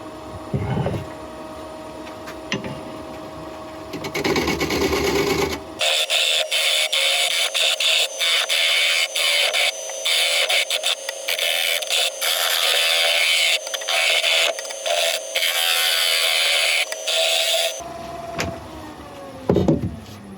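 A wood lathe spins a red oak bowl with a steady motorized whine and hum, growing louder and harsher through a long middle stretch before easing back to a lighter drone.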